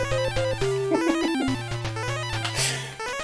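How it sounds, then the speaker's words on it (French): Chiptune music and sound effects from the Barbie game on the NES, with a repeated bucket effect among steady square-wave notes, loud and continuous, no talk. "c'est le bruit du seau qui est complètement insupportable."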